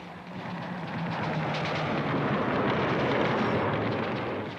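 Soviet SAM-2 surface-to-air missiles launch from mobile sites in archival footage, giving a sustained, loud roaring rush that swells and holds steady for several seconds with no voices.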